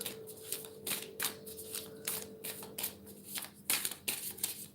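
Tarot cards are shuffled by hand in a series of quick, crisp riffles and slaps, about a dozen sharp bursts over a few seconds, close and fairly quiet against a low background hum.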